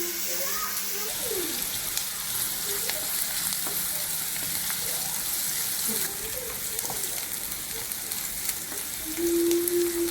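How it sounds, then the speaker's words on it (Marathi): Finely chopped onion fries in hot oil with a steady, close sizzle that runs unbroken throughout, broken by faint stirring scrapes and occasional background voices. "कांद्याला मस्त लाल करून घ्यायचा, गुलाबी कलर यायपर्यंत परतून घ्यायचा कांद्याला."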